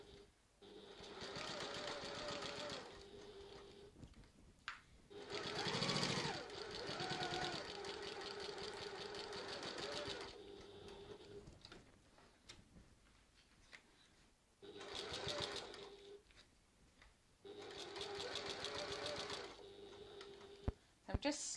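A sewing machine stitches a tote bag in several bursts of fast, steady whirring, pausing between runs to reposition the fabric, with a backstitch at the start and end; the motor sounds close and fairly loud.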